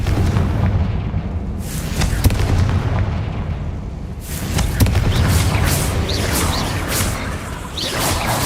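Bombarda and Confringo explosion spells go off in Hogwarts Legacy, a string of loud booming blasts and whooshes that come back to back and overlap, with dense game noise filling the gaps.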